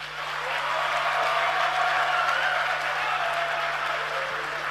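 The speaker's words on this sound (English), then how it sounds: "show them how to clap" Crowd applause from a youth audience at a Ghanaian dialogue session with a government minister, a steady wash of clapping that swells and then holds, with a low constant hum underneath.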